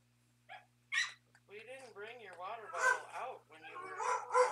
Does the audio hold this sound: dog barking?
yes